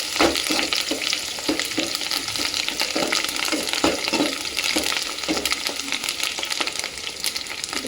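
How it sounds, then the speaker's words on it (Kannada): Fresh curry leaves fry in hot oil in a pan with a continuous crackling sizzle, and a spoon gives repeated scraping, clinking stirs throughout, close and fairly loud with no talking. "ಫ್ರೈ ಆಗಲಿ ಚೆನ್ನಾಗಿ"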